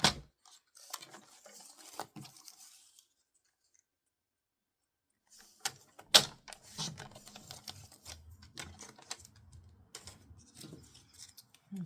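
Designer Series paper for a card being cut, with close crisp snips and clicks in two bursts around a pause of near silence.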